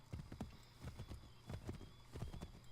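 Rhythmic hoofbeats of a horse galloping in the video game Assassin's Creed III, steady clip-clop pulses repeating throughout, fairly faint with a low engine-like hum beneath.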